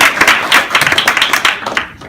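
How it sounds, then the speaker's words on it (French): A short burst of loud, close clapping from an audience at a Parti démocratique de Côte d'Ivoire political gathering, individual claps distinct and uneven, tapering off at the end. "Applaudissez le Parti démocratique de Côte d'Ivoire."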